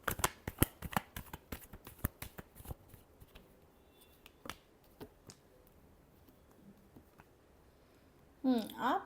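Tarot cards being shuffled up close, a quick run of crisp riffling clicks and flutters over the first few seconds, then sparser taps, with a brief burst of voice at the end.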